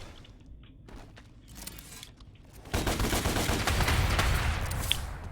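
Charged gun shots in the action game DmC: Devil May Cry come as scattered quieter shots, then a dense loud burst of rapid gunfire and impacts in the second half, with no voices.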